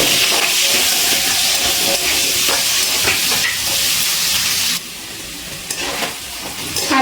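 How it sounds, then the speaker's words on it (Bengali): Two medium potatoes, diced and frying in hot oil, give a loud, steady broadband sizzle with scattered crackles and occasional stirring scrapes; the sizzle drops noticeably quieter partway through, then continues alone. "দুটো মাঝারি সাইজের আলু ডুমো ডুমো করে কেটে নিয়েছি এবার সেটা ভেজে নিচ্ছি"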